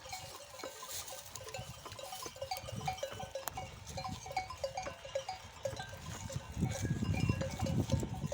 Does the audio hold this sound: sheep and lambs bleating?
yes